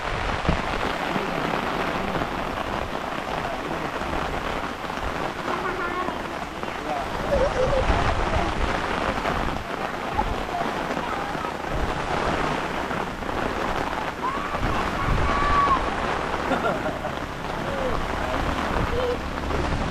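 Heavy rainstorm pours steadily outside a classroom during the rainy season, a dense continuous wash of rain at constant loudness with faint voices murmuring underneath.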